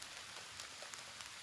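Rain falls steadily at a campsite, a faint even hiss of drops on surfaces with scattered light patters, no voices.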